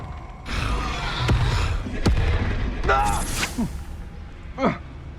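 Expulso and Incendio spells cast in Hogwarts Legacy burst out as sharp blasts, crackling whooshes and booming impacts in quick succession, mixed with shouted voices.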